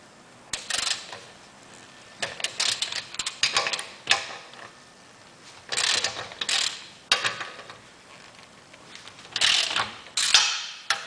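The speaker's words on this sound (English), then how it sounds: "We'll loosen the lug nuts, then we'll jack the front end up." A ratchet wrench loosens the lug nuts on a car's front wheel, hubcap already removed, during an electric conversion: several close, loud bursts of rapid ratcheting clicks separated by short pauses.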